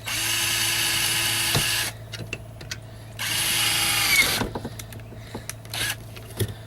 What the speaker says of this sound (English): I actually have two drills here.